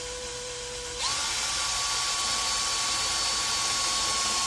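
A power drill starts after a moment of quiet and then whines steadily at high speed as it bores a second hole in a homemade fairing phone holder, close and loud throughout.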